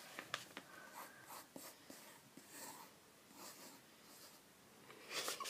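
A pencil scratches faintly on paper in short, irregular strokes and taps, quiet and close, with light breathing in the background.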